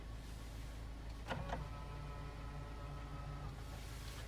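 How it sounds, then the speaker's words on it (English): The electric door mirrors on a Hyundai i20 1.2 Comfort folding away at the press of a button: a faint click, then a quiet steady motor whir lasting about two seconds, nearby inside the car. "both the mirrors fold away"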